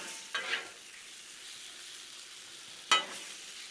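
Pork belly on a Blackstone griddle gives off a steady, faint sizzle, broken by two brief louder spatters or scrapes.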